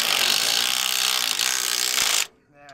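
A bolt is threaded onto a scissor jack leveler being mounted to a bus, making a loud, continuous close-up grinding rasp that cuts off abruptly near the end.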